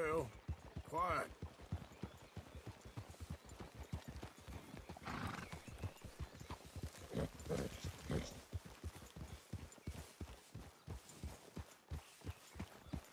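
Steady hooves clip-clopping at a walking pace in the video game Red Dead Redemption 2, a continuous rhythmic patter up close, with a horse whinnying early on and some muffled voices in the background.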